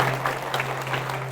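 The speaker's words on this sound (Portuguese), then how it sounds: "Uma salva de palmas para Jesus." Audience applause at a church sermon gathering, a short burst of steady clapping with a constant low hum underneath.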